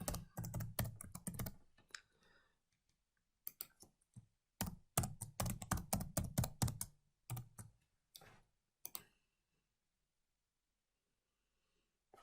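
Someone types on a computer keyboard to log in, producing quick close bursts of keystrokes with short pauses before the tapping stops.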